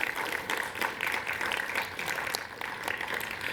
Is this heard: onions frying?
no